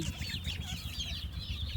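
A chicken being held for treatment of swollen eyes or coryza clucks softly and repeatedly up close, with a low background rumble.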